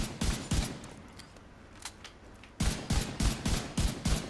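Rifle fire in Rainbow Six Siege: two quick shots, a pause with faint distant pops, then a rapid run of about seven punchy shots, loud and close.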